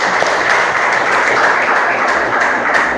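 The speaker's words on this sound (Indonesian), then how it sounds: "Tepuk tangan untuk kelompok 2." Classroom applause for a student group after its presentation, a dense, steady burst of clapping from a small crowd, fairly loud and close for the whole stretch.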